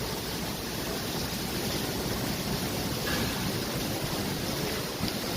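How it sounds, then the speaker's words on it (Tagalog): Steady, dense roar of heavy rain in Parañaque, Philippines, constant hiss filling the air without pause, mixed with gusty wind noise. "grabe lakas ng ulan dito sa Parañaque"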